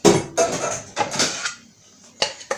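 Brownie batter being scooped out of a hot bowl, several close scraping and knocking strokes of a utensil against the bowl in short irregular bursts with brief pauses between.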